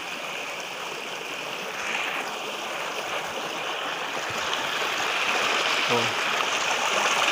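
A steady, close rush of flowing river water on a mountain fills the whole clip, with a brief voice exclaiming once over it.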